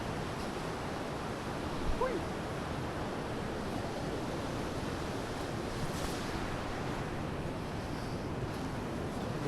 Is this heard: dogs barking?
no